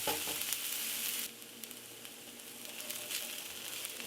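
Onions fry in a skillet with a steady, close sizzle that is loud and bright at first and then settles to a softer, even crackle with small pops, and no voices over it.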